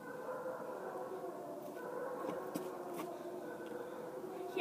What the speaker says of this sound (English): if you hear a lot of dogs barking, which you probably can, it's the kennel